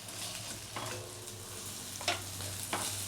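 Ginger-garlic paste sizzles in a hot pan while it is stirred. A steady frying hiss runs throughout, with a few scraping stir strokes near the mic and no speech.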